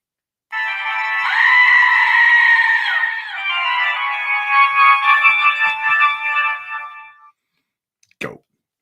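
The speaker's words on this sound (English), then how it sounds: "Goat." A goat gives one long, loud, wavering bleat that bends in pitch and trails off after several seconds, followed by a brief sharp knock near the end, with no one talking.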